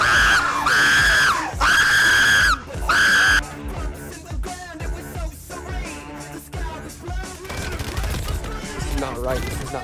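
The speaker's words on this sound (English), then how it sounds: "Stop screaming! Stop!" Several people scream loudly in three long sustained bursts during a Warzone battle royale quads match, followed by rapid gunfire, clattering game effects and shouted voices.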